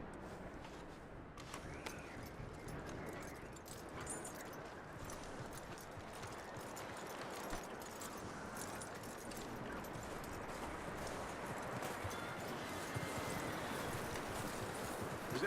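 Horse hooves clip-clop in the Red Dead Redemption 2 video game, a quiet steady run of hoofbeats under light ambient game sound.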